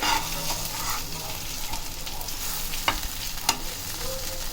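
Ivy gourd (kovakkai) stir-frying in a pan, a steady close sizzle with scraping spoon strokes and a couple of sharper clinks against the pan, no talking.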